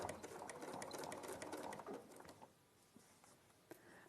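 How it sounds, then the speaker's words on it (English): A sewing machine stitches across fabric in a quiet, steady run of fast needle chatter for about two seconds, then fades to faint clicks and handling noise; soft and somewhat distant. "And then we're going to sew down about an inch."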